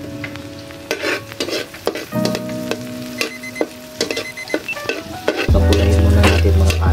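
Mushrooms being stirred as they fry in a pan for a broccoli, mushroom and shrimp dish, with steady sizzling and repeated scraping stirs throughout, growing louder near the end when a stronger sizzle or hum joins in.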